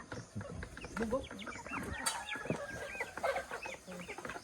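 Chickens cluck and chatter nearby in a busy, overlapping flock, with faint voices mixed in under the bird calls.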